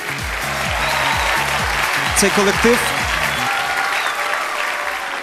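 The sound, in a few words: audience applause at a gala concert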